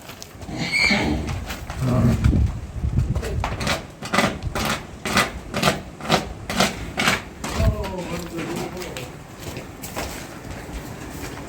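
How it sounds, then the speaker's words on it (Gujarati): Close rhythmic hoof clip-clops and snorting from two mares, with a short whinny-like cry near the start and people talking in the background. "એક નહીં બે બે ઘોડિયું છે અહીંયા"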